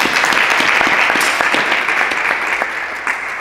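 Dense, steady applause from an audience at a lecture on Renaissance historical fencing fills the whole stretch, loud and continuous with no voices over it.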